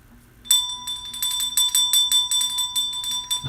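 A small bell rung rapidly by hand, a bright sustained metallic ring with a dozen or so quick repeated strikes, close and loud, without any talking.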